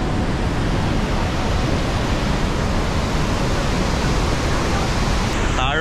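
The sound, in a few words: Athirapally waterfall, muddy flooding water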